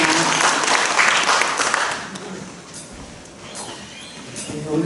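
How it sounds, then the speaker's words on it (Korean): Loud, dense applause from a crowd at a book launch event in Daegu, strongest at first and then tapering slightly while still continuing. "뜨거운 박수 부탁드리겠습니다"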